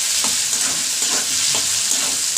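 A paste of turmeric, ginger and green chili fries in oil for a vegetarian banana-flower curry, giving a loud, dense sizzle throughout with a few soft scraping stirs breaking through.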